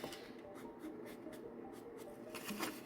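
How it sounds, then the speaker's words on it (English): A printed cardstock postcard is gently crumpled by hand, giving quiet crinkling and rustling bursts, a few short scrunches close by with a crisper crackle near the end. "crumple it a tiny bit like that."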